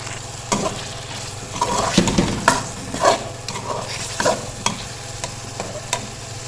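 Ground coriander and cumin roast in a pan for an aloo matar chicken curry, with repeated stirring scrapes and a steady low sizzle, close and clear with no talking.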